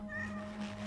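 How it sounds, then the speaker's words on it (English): A cat in a video game gives a short, tonal meow over a steady hum of game music and ambience. "Meow. Can I pet the cat?"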